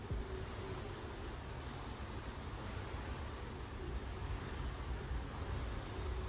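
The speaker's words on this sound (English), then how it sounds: "feeling the breeze and listening to the ocean" Steady wash of ocean waves and breeze from the open deck of a cruise ship, a constant broadband rush with no distinct breaks and no voices.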